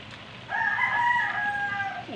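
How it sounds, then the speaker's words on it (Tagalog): A rooster crows once, a drawn-out strained call rising and trailing off, clear but not very close, over a quiet background. "Kasama tayong manok."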